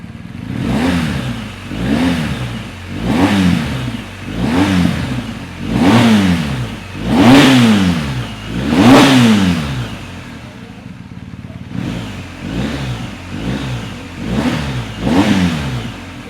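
A BMW R1250 GSA motorcycle with its exhaust sounds off in a series of loud, close throttle revs, about six rising and falling swells, then a short lull, then three more blips.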